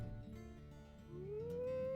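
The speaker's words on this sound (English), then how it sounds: "let me just howl a couple times, maybe once more" A wolf howl from a wolf video game, a single rising, sustained tonal call that swells and holds near the end over a low ambient game soundscape, with no talking.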